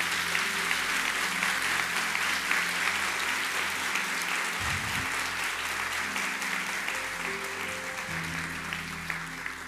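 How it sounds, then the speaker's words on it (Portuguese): A church congregation applauds during a sermon, with a dense and sustained wash of clapping from many hands that fills the room evenly for nearly ten seconds. "Quero que você aplauda a Deus pela fé desse homem aqui."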